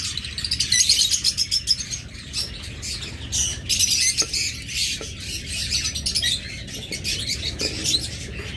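A pair of creamino birds chirps with bright, rapid tweets and squawks, close by and steady, with light pattering in the background.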